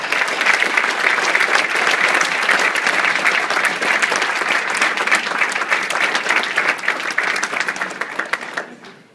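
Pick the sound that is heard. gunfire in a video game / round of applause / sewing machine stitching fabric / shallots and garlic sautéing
round of applause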